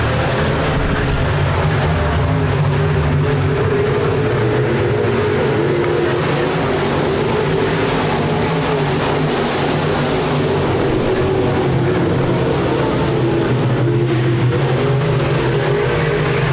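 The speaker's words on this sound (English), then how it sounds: "Top 5 cars pretty much single file around the speedway" Modified race cars roar around Park Jefferson Speedway, a loud continuous engine drone from the pack running nearly single file, with the pitch swelling and fading as cars pass.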